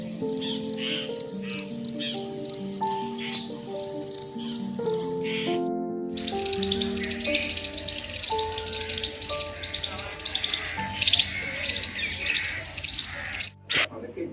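Birds calling in the gardens of Belur Math, a busy mix of chirps and trills layered over steady tonal background sounds, continuing throughout with a short gap near the end.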